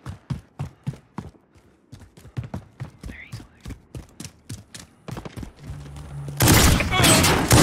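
Rapid gunfire in the video game Modern Warfare: a steady train of sharp shots, close and loud, that swells into a dense, roaring burst of noise near the end.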